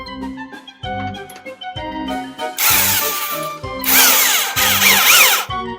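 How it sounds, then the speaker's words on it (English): Impact wrench on a bolt of a 1966 VW Beetle during axle beam and disc brake work, firing in loud repeated rattling bursts with short pauses between, close up with no talking. "Duckman, you're using an impact!"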